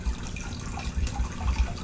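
Water sloshes in a gold pan being shaken, soft irregular splashes and swirls repeating close by, with no speech.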